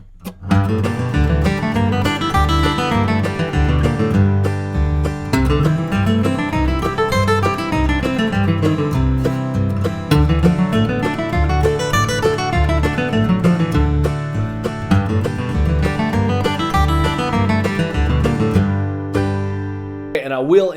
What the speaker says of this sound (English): I'm going to play that along with a strum machine backing track.